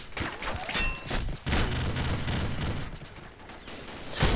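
Rapid gunfire from the Legion gun in the Combat Arms shooter game rattles in dense, loud bursts at long range, with a brief dip in the middle before the firing resumes.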